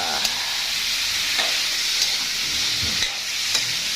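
Liver sizzles in a frying pan as it is stirred, giving a steady, dense frying hiss broken by a few light scrapes and taps from the stirring utensil.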